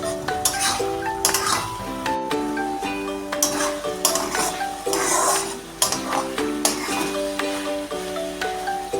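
Chopped bottle gourd stirred in a pan as its water cooks off, with repeated metallic clinks and scrapes of the utensil over a soft sizzle and steady tonal background music.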